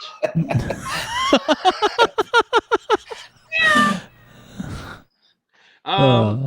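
Cat-like meows and yowling calls, rapid stuttering bursts followed by longer drawn-out wails, loud and close with brief gaps between them; the calls may be imitated by a human voice.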